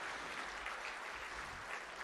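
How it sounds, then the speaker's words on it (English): Steady, fairly faint round of applause fills a hotel ballroom at an IMCA racing awards banquet in Lincoln, Nebraska, a dense even patter of clapping lasting the full two seconds without breaks. "How about a nice round of applause for all these folks standing here tonight"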